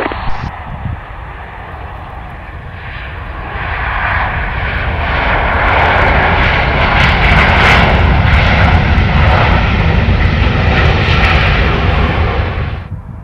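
An Air Serbia airliner lands on runway 12 right at Belgrade Airport, its engine roar swelling loud and close, holding steady as it rolls past, then easing off.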